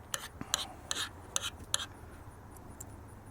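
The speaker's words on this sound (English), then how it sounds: "but just scrape the seeds out" A spoon scrapes seeds out of a cut garden vegetable in short, quiet rasping strokes, about a half dozen bursts close up, then fading to softer scrapes.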